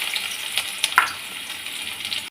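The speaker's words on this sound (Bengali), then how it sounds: "পেঁয়াজ হালকা লাল করে ভেজে নিয়েছি" Finely chopped onion frying in a pan for a Bengali okra dish, a steady close sizzle with a couple of sharper spatters and a stirring scrape, no voices.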